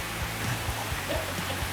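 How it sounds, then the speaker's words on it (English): Rushing water runs behind a newly finished house, a faint, steady broadband wash with a few soft low thumps over it, no voices. "You can hear the rushing water behind me."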